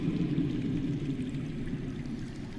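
Water streaming steadily from somewhere underground in a Game of Thrones video game, a continuous low rushing flow heard alone at moderate level throughout.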